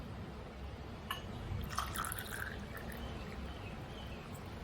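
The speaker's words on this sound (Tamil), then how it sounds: "ஊற்றி காட்டுறேன் பாருங்க." Tirunelveli-style palm jaggery coffee, served black, is poured into a cup, giving a soft liquid trickle and splash that swells near the middle, over a steady low background hum.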